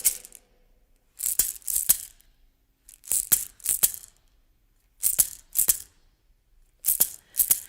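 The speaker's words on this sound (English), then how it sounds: "And clapping along could sound like this." Hands clap in short bursts of two or three sharp claps, pausing between groups, close and fairly loud with no voices, keeping time to a song.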